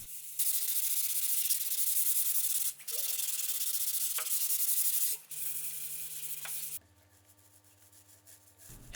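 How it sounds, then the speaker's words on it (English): 180-grit sandpaper rubs back and forth by hand over a wooden slat room divider in a few long, close strokes with brief pauses, then the scratching stops and it goes quiet. "I gave it a last hand sanding with 180 grit sandpaper"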